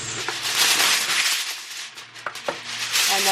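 Aluminum foil crinkles loudly as it is pulled over a baking dish of chicken parmesan casserole, a few sharp taps and crackles mixed into the rustling, close and brief.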